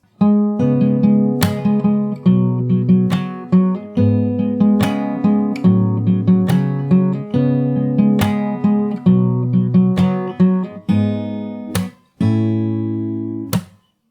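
Fingerstyle acoustic guitar plays the pre-chorus of a song alone, steady plucked notes and chord shapes ringing in a continuous flowing line, with a short pause near the end before a final phrase.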